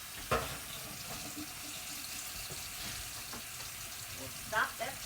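Cool tap water pours over cooked pasta in a kitchen colander, a steady soft splashing hiss with a couple of brief louder clatters, fairly faint and close.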